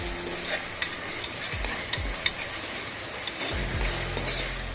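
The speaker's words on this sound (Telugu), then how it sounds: "తర్వాత అల్లం వెల్లుల్లి పేస్ట్ వేసుకున్నాం. ఇది కూడా ఒక 2-3 మినిట్స్ ఫ్రై చేసుకున్నాం" Ginger garlic paste frying and being stirred in a pan, with a steady sizzle and repeated scraping strokes of the spoon, close and fairly quiet; a low hum sits underneath.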